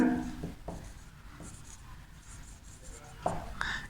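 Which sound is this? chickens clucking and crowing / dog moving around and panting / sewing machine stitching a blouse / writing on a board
writing on a board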